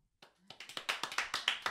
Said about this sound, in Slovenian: všeč mi je ta aplavz, kako ga dajete